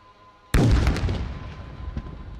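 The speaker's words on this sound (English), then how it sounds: "an opportunity strike on helipad at Tango 13" A loitering drone strikes a helipad target during an army day combat demonstration: one sudden loud blast followed by a rumbling, slowly fading roar and a faint second thud.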